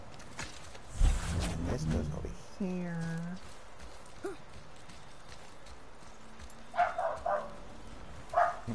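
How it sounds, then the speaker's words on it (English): Several dogs bark in a few short bursts, loud and close at first, then fainter yips later, with a low clattering rumble and background noise from a home during a game stream. "Sorry for my dogs barking."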